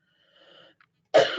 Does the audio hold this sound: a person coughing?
yes